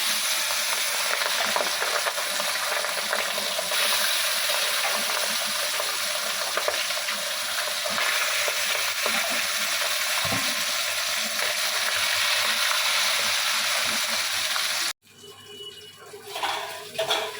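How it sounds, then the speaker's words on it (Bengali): Fish heads frying in hot oil in a kadai, a loud continuous sizzle and crackle with occasional stirring, close by, ending abruptly near the end. "মাছের মাথাগুলো এবার এক এক করে ভাজবো"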